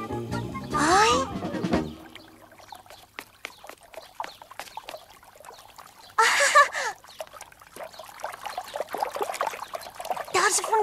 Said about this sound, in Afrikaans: Daar's 'n fontein.